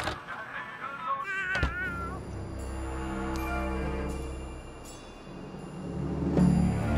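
A cat meows repeatedly in South Park: The Fractured But Whole, with a clear wavering meow near the start and more meows spread through the rest, set against steady in-game background ambience.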